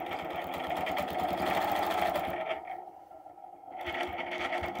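An embroidery machine runs steadily at close range, its needle tapping in a fast, even rhythm as it stitches across a design, then pauses briefly before starting up again.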